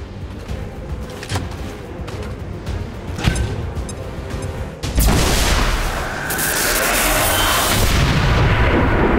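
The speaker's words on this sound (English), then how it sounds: "Throwing grenade!" A grenade goes off in the video game XCOM 2: scattered gunfire-like thuds lead into one loud, sudden blast that turns into a long, heavy rumbling roar.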